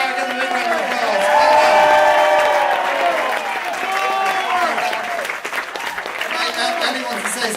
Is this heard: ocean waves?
no